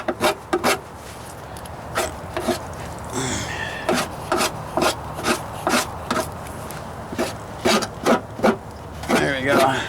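A Shaper Blade abrades the rocker panel of a Ford Ranger in a steady series of short, rhythmic scraping strokes, close and fairly loud, about two per second, with a brief voice partway through.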